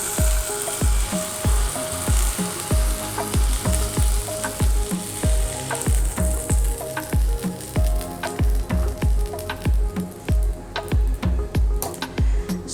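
Tandoor mackerel sizzles and fries in a pathri tawa, a close, continuous crackling hiss punctuated by a steady run of rhythmic low thumps and pops throughout, with no talking.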